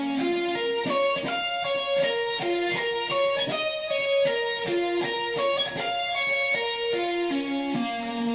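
Electric guitar with distortion sweep-picks rapid arpeggios in a steady, close run, notes rising and falling in continuous even cascades with no talking.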